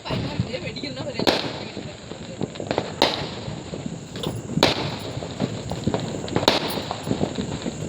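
Firecrackers burst in sharp, loud cracks, four main reports spaced a second or two apart, each a short explosive bang over a noisy outdoor background with people around.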